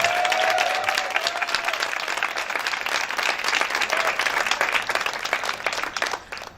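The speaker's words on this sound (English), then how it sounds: "If we could do a great big round of applause for all of the resources that came out today" A big round of applause from the audience at a domestic violence event, dense continuous clapping at close range, holding steady before tapering off at the end.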